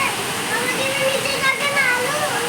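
Heavy rain pours down in a steady, dense hiss of water that fills the whole stretch, with a voice faintly present beneath it.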